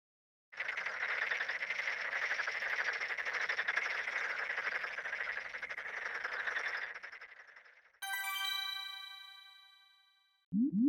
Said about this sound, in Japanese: カエル。